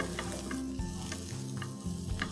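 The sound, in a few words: flat beans stir frying with salt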